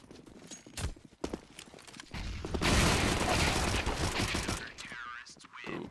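Gunfire in a competitive shooter match replay: scattered single shots, then a dense sustained burst of rapid fire, with voices talking over parts of it.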